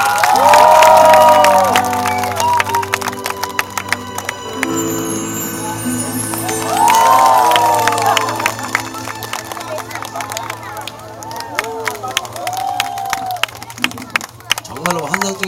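Applause and cheering from a crowd at a live fire show, a dense wash of clapping and shouts rising and falling over about fifteen seconds, with a loud amplified voice and music carrying above it.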